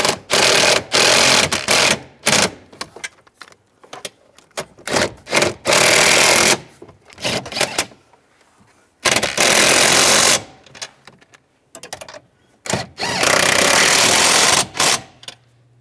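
A power tool snugs down nuts on a 2007-2013 Chevy Silverado during a heater core replacement, firing in loud, close, repeated bursts separated by short pauses, with no talking.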